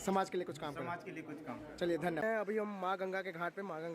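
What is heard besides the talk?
None of the usual background noises is heard.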